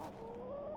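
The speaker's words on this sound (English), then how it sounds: "Chicken." Chicken clucking near a cottage in the video game The Excavation of Hob's Barrow, a steady close bird call with a sustained tonal cluck over a constant ambient background, no talking.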